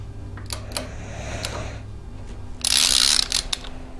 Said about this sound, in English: I very poorly welded some sockets on there so I can use my torque wrench